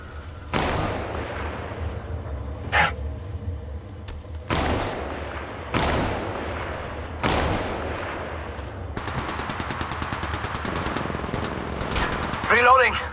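Rapid bursts of automatic gunfire from an attacking squad in the Apex Legends Mobile shooter game, loud and close, coming in several separate volleys with short gaps and a sustained stuttering stretch near the end.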